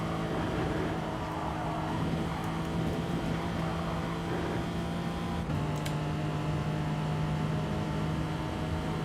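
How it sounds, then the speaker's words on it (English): Racing car engine in the GT Sport video game, a steady loud droning hum with sustained tonal whine, holding at a constant pitch throughout with a slight shift midway, no talk over it. "Engine sound."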